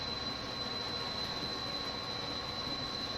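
New Jersey Transit train in Train Simulator 2020 doing yard work, a steady loud rumble of rolling wheels and running gear with a constant high whine, continuous and close with no speech.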